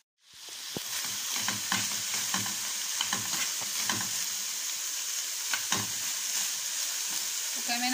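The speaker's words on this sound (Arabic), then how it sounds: "وعندي بصلاية مفرومة، هنزل بالبصلاية المفرومة" Minced onion drops into a hot pan and sizzles loudly and continuously while a utensil scrapes and stirs it in repeated strokes. The onion is being cooked for samosa filling.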